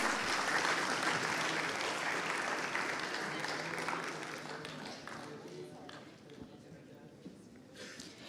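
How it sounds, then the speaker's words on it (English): A seminar audience applauds the speakers, a full round of clapping that starts dense and fades over several seconds into scattered claps, with murmuring talk underneath. "let us give a big round of applause to our extraordinary speakers"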